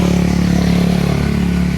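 A loaded motorcycle carrying hollow concrete blocks idles and pulls away, its engine a steady, loud, near mechanical drone with slight revving and rattling throughout.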